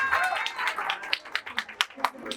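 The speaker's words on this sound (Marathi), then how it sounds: "जोरदार टाळ्या" Guests at a first birthday party clap in a short, uneven burst, sharp claps at close range coming faster and more scattered toward the end, with some voices mixed in.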